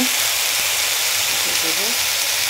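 Fiddlehead fern greens dropped into hot oil tempered with five-spice, giving a loud, steady hiss and sizzle with no break, close up.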